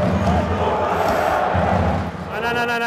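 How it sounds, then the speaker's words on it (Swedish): Ice hockey crowd at an SHL game chanting in unison, a dense, loud roar of many voices filling the arena with rhythmic pulses, continuous throughout and swelling near the end. "Publiken skanderar tydligt vad de tycker."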